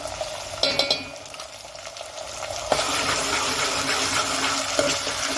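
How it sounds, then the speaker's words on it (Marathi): Ginger garlic paste sautéing with onions in hot oil in a pot, a steady loud sizzle that jumps up sharply midway as more goes in, with a few stirring clinks and no speech. "आलं लसूण पेस्ट पण मस्त जरा कच्चा स्मेल जाईपर्यंत परतून घ्यायचे"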